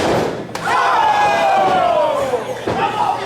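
A pro wrestler's body tackle lands during a tag-team match, a sharp slam near the start and another thud near the end, under a loud arena crowd and a commentator talking.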